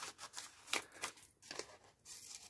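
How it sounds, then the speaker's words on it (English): Scissors make quick, rough snips through collage paper, close and quiet, in a loose uneven rhythm with faint rustling between cuts. "I'm going to roughly cut out the shapes"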